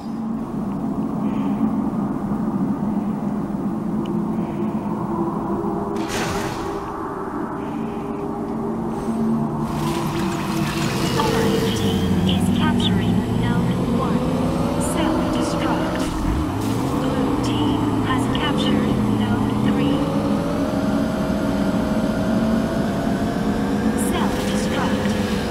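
A lightcycle motorcycle engine from the Tron video game drones steadily throughout, its pitch sliding up and down in wavering sweeps. Talk and scattered clicks sit over it.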